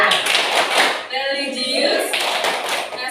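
A classroom group performs a rhythmic clapping chant, loud close hand claps in patterned bursts mixed with children's voices chanting along.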